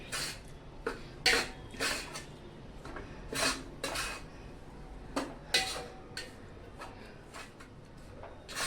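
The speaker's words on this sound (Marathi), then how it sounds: "आता हे सगळं खोबरं मी याच्यामध्ये खमंग भाजून घेते" Sharp metallic scrapes and clinks of a utensil stirring coconut as it roasts in a heated metal pan, repeated at irregular intervals over a quiet background.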